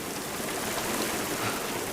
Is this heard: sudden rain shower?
yes